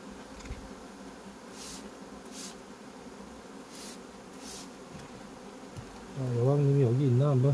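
Honeybees hum steadily around an open hive during an inspection for mite treatment. Near the end, a bee buzzes loudly and close by with a wavering pitch.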